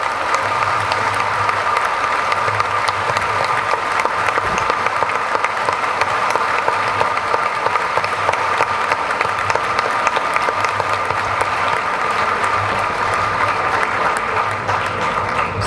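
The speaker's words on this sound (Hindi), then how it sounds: "भरपूर तरीक़े से तालियां बजाइए" Audience at a poetry reading during a Pakistan literature festival, sustained loud applause from a large crowd that holds steady throughout without voices on top.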